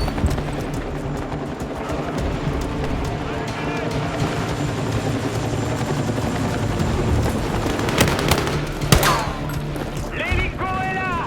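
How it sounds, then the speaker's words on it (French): Steady rotor-like drone of a helicopter in the video game Battlefield 6, with bursts of gunfire and clattering effects, people talking over the din throughout. "L'hélico est là."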